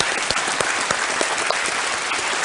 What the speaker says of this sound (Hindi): बहुत बहुत तालियों के साथ इनका स्वागत किया जाए